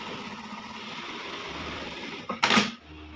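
A threaded Singer needle sewing machine with its bobbin case fitted, being run to check shuttle timing: a low steady mechanical hum, then a short loud whirring burst of stitching near the end.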